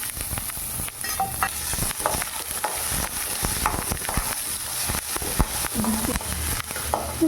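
Garlic and onion frying in about two tablespoons of oil in a steel pan, a dense continuous sizzle with stirring scrapes and clatter, loud and close.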